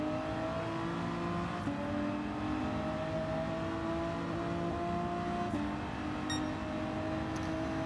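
A racing car engine in Gran Turismo 7 drones loud and close at high revs, its steady whine broken by a couple of abrupt gear shifts, with no talk.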